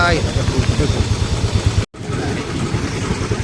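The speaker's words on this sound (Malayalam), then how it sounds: "വണ്ടികൾ പോകുന്നു നോക്കൂ" Motorcycles and cars pass along the potholed, damaged SH69 road between Thrissur and Kunnamkulam, their low engine hum running beneath close, continuous talking.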